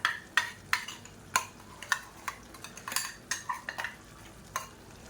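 Ground masala paste of small onions and spices stirred into sizzling boneless chicken in a pan, with repeated sharp scraping and clinking of a spoon against metal over a faint frying hiss, close and moderately loud.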